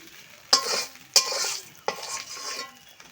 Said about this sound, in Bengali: মাছ ভাজা পুরো কমপ্লিট হয়ে গেছে।